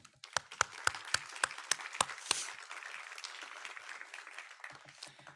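Applause at an architecture association's business meeting thanks departing board members. A few sharp, separate claps come first, then they swell into a steady round of applause that fades near the end.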